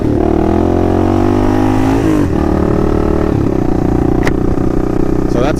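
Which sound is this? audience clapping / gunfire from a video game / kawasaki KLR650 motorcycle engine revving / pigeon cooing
kawasaki KLR650 motorcycle engine revving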